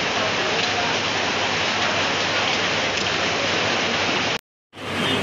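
Steady, loud rain hiss fills the air without a break, cuts out abruptly for a moment near the end, then resumes.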